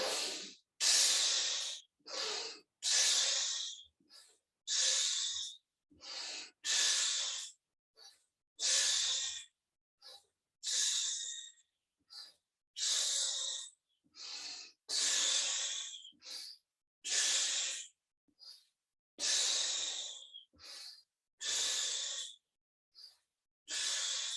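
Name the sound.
deep breathing, exhaling together in a relaxation exercise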